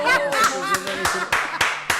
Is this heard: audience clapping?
yes